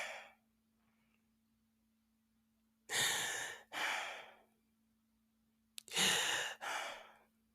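A person breathes audibly near the microphone in two paired cycles, each a breathy inhale followed by a slightly shorter exhale, separated by quiet pauses with a faint hum in the background.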